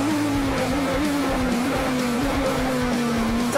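The Calsonic Impul GT-R, a Nissan GT-R Super GT race car, drives past with a loud, steady engine drone whose pitch wavers slightly through gear and throttle changes, with no voices heard.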